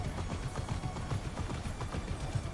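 Horse hooves gallop in the video game Immortals Fenyx Rising, a steady rapid clip-clop with a hard, metallic ring, continuous and fairly loud throughout.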